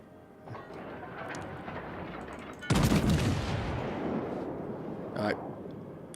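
Warship secondary guns fire shells in World of Warships during a naval battle, a dense loud burst of gunfire hitting at once after a steady rumble of battle noise, with a second sharp volley shortly after.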